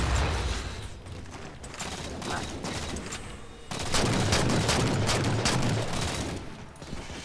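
Gunfire in Halo from The Master Chief Collection, rapid automatic bursts crackling close and loud in dense volleys, growing heavier partway through, with no talking.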